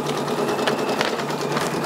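A Brother PRS100 single-needle embroidery machine stitches a patch, a steady, fast mechanical whir with a constant hum running unbroken, fairly close and moderately loud with no voices.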